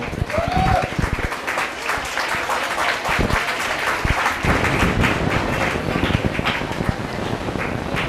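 Steady applause from an auditorium audience at a university research forum in Celaya, close and fairly loud, with individual claps audible throughout and some faint crowd murmur mixed in.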